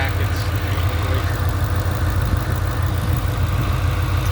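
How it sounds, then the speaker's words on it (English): A 2007 Shelby GT500 with a Magnaflow exhaust idles nearby, giving a deep, steady rumbling burble with even pulses and no revving throughout. "then it's a Magna flow exhaust. It sounds fantastic."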